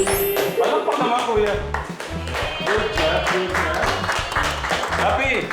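A small group claws out brisk, uneven clapping amid lively speech and background music, the applause continuing throughout at close range.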